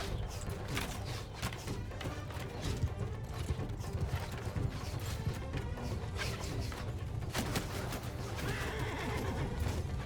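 Horses whinny and neigh loudly over galloping cavalry hooves and clashing battle noise in the video game Mount & Blade II: Bannerlord, a dense, continuous din with no talking.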